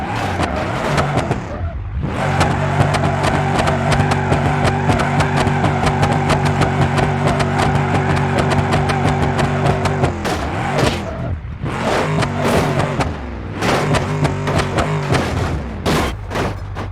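An SUV engine revs steadily and loudly in an off-road driving game, holding a sustained drone with brief dips near two and eleven seconds before climbing again, with no talk over it.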